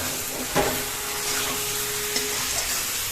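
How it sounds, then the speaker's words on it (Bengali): Pointed gourd (potol) fries with spices in a wok, a loud, continuous sizzle and hiss close by, broken by a sharp stirring clatter early on and a fainter scrape later. "পটলগুলিকে এখন খুব সুন্দর করে নাড়া হচ্ছে যাতে এটা পরিপূর্ণভাবে এটা যাতে সিদ্ধ হয়ে যায়।"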